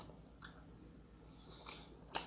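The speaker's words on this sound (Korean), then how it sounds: "무도 한번 먹어보고요." Faint, close crunching bites and moist chewing of radish served with spicy charcoal-grilled boneless chicken, in a few soft irregular bursts with a sharper crunch near the end.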